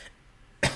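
A single short, sharp cough bursts out near the end after a brief quiet moment, close to the microphone and alone.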